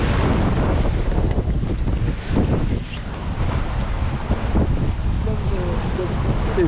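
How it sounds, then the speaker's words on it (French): Moderate wind at sea rushes past a sailboat off the Camargue coast, a loud, constant broadband roar with wind buffeting the microphone and waves washing underneath throughout. "Donc il y a un vent modéré, nuageux, un petit peu de soleil."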